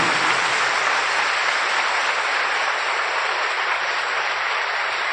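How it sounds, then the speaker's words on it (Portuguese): A church congregation gives a dense, steady round of applause that fills the whole stretch, broad and even without any speech over it. "Dê para Ele que merece uma salva de palmas."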